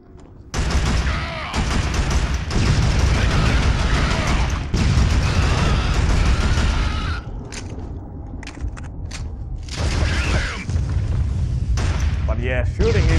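Video game gunfire in Killzone during a Helghast invasion: loud bursts of rifle fire and booming impacts in several heavy stretches separated by brief gaps, with short pauses and trailing noise between volleys.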